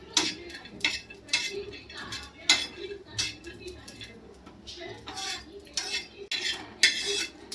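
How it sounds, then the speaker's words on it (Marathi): Dry coconut roasting in a pan with a utensil stirring it, making repeated scraping and clinking strokes in an irregular rhythm, close and moderately loud, while a person talks intermittently. "सुकं खोबरं आहे, सुकं खोबरं भाजतोय।"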